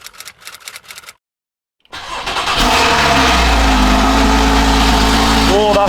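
A Porsche engine cranks with a few rapid ticking bursts, falls briefly silent, then fires up loudly and settles into a strong, close, sustained idle roar.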